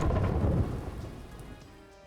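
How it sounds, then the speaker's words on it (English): Lightning from the Calamity Fables mod in Terraria: a loud rumbling thunder crack with rain-like hiss that rolls off and fades over two seconds, no voices. "It was Calamity Fables making the lightning sound."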